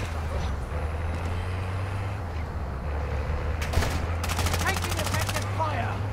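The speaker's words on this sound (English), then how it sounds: "Taking effective fire." Automatic gunfire in a tactical shooter game match, rapid bursts of shots over a constant low engine-like drone, with players talking over the action.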